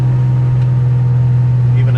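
A 1970 Chevelle SS with a 502 Mark IV crate V8 and 4.11 rear gears runs loud and steady with a strong low engine drone throughout, and a voice talks over it.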